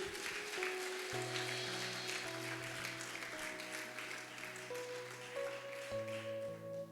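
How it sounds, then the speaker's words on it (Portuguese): A church congregation claps together in praise of Jesus, a steady dense wash of applause running throughout, with sustained organ or keyboard chords beneath it. "Vamos dar uma linda salva de palmas ao Senhor Jesus"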